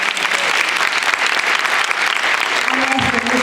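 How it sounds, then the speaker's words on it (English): A graduation crowd applauds a young graduate, with dense continuous clapping filling the room and a voice briefly starting to speak over it near the end. "So let's give him a round of applause."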